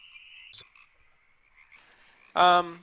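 Frogs croak in a short nearby burst of rapid rattling pulses after quieter buzzing and a brief chirp, with faint voices in the background.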